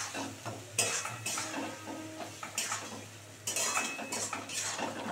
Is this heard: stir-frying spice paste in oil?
yes